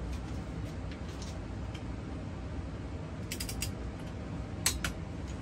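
A torque wrench ratchets while a bolt on a K24 engine post mount is tightened, giving a soft creaking clicking run and then a few sharp metallic clicks near the end as it breaks away.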